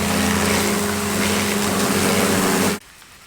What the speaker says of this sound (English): Let's get the pressure cleaner onto this and just clear the muck off of it anyway